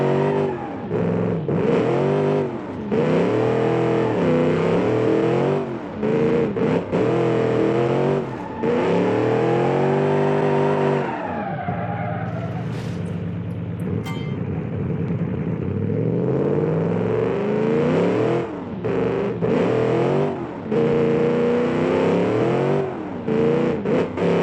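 An Australian muscle car in the BeamNG driving game revs hard, its engine rising and falling through repeated gear changes, then easing to a lower rumble before climbing again, loud and close with no talk.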